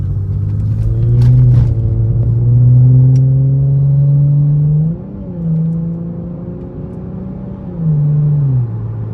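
A Nissan Altima fitted with an axle-back exhaust, heard from inside the cabin, rumbles deeply as it revs up and settles in repeated smooth swells, loud and close, with no talk.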